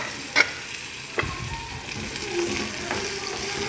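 Chicken and potatoes frying in a pan while being stirred: a steady sizzle with a few sharp scraping clatters of the utensil against the pan, close and alone.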